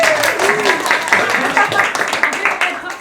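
A small audience at a climate action panel discussion gives a short burst of scattered hand clapping, close and moderately loud, with voices talking over it.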